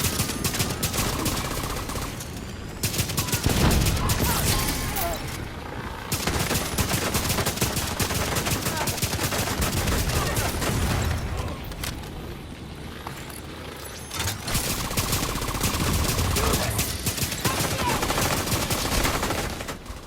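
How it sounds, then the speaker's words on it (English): Sustained, dense automatic gunfire from a minigun in the video game The Division 2, continuous bursts dominating throughout with brief lulls, loud and close, mixed with game effects. "Try that minigun!"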